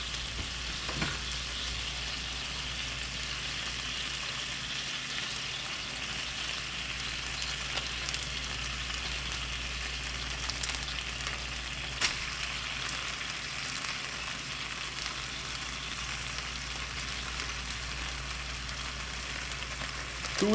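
Sausage frying in a pan for a three-meat chili, a steady close sizzle and crackle running unbroken throughout with no talking.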